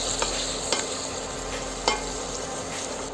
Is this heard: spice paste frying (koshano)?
yes